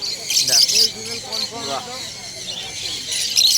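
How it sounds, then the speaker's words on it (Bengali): Caged pet birds at a pet market in Serampore give short, bright chirps that come through at the start and again at the end. Someone talks steadily over them for most of the time. "পাখিগুলো একবার দেখে নাও খুব ভালো কালার খুব ভালো মার্কিং"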